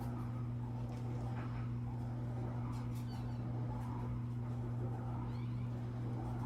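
A cat meows a few times, moderately close, over a steady low hum and background noise.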